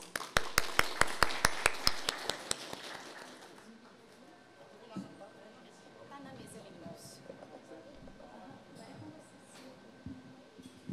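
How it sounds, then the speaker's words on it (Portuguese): An audience at a sustainability and climate resilience talk gives a brief round of rhythmic applause welcoming speakers, about a dozen crisp claps that fade out within a few seconds, leaving room murmur and shuffling. "Sejam bem-vindos, uma salva de palmas"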